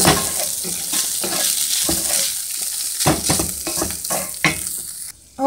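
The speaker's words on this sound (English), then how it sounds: "Just getting the onion and stuff sauteed in there." Onion, carrots and meat sautéing in a pan, an even sizzle broken by repeated scraping stirs and utensil knocks at an irregular pace, close-miked, with no talking.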